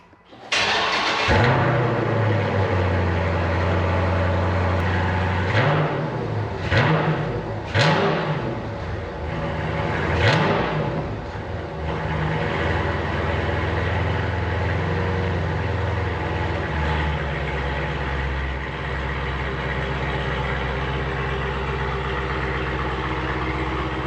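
A Dodge Challenger Shaker Widebody with a 6.4L V8 and stock X-pipe exhaust starts up loud and close. It blips the throttle in several sharp revs, then settles into a deep, rumbling idle.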